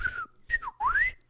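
A person whistling a short birdlike call imitating a bird: three quick warbling notes, the last sliding upward, close and clear with no talking.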